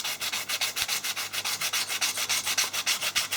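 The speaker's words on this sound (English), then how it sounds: "Gradually worked my way up the sandpaper grits." Sandpaper rubbing a cast metal handle by hand in quick, regular back-and-forth strokes, a loud close rasping rhythm of about four strokes per second that carries on steadily with nothing else heard.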